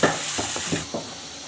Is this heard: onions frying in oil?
yes